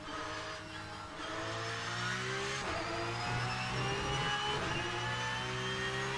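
A Porsche 992 Cup race car engine in rFactor2 drones and revs steadily through gear changes, a continuous loud mid-pitched racing engine note with rising tones and no talk.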